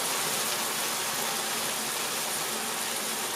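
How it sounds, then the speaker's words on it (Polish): Boiling water is poured into a cooking pot for a one-pot summer dinner, giving a steady dense rushing splash that is loud and continuous, with no voice. "to zalewam z gotującą się wodą"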